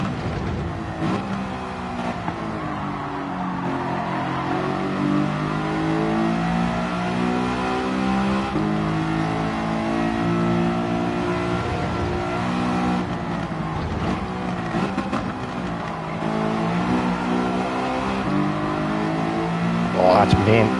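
A road car's engine drones loudly on a racing video game track, holding a continuous tone that rises and falls as it revs through the gears, with a sharper burst near the end.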